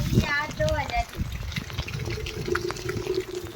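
Water gushes out of a pipe on a farm in Gujarat as a steady rushing wash, with someone talking over it close by.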